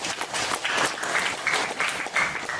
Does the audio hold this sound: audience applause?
yes